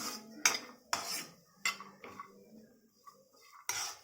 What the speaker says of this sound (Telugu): ఇప్పుడు ఈ ముక్కలు అనేవి కొంచెం బాగా ఫ్రై అవ్వనివ్వాలి ఇలా రోస్ట్ చేస్తూ ఉండాలి